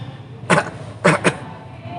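A voice gives a few short, breathy imitated coughs: one at first, then a quick pair, fairly close and moderately loud.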